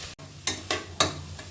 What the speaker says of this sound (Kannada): ಒಂದು ಸ್ಪೂನು ಪೆಪ್ಪರ್ ಪೌಡ್ರ್ ಮಿಕ್ಸ್ ಮಾಡ್ಕೊಳ್ಳೋಣ ಸ್ವಲ್ಪ ಚೆನ್ನಾಗಿ.